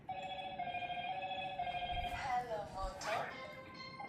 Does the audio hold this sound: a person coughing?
no